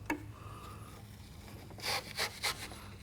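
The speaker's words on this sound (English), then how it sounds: "We're gonna go inside here and we're gonna scrub the felt." The felt in a Ford Ranger window channel is scrubbed by hand in three short, close rubbing strokes after a quiet pause, over a low steady hum.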